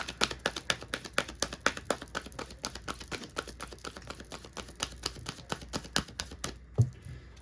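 Tarot cards being shuffled by hand, a brisk run of evenly spaced crisp flicking taps close up that stops abruptly near the end, with no talking.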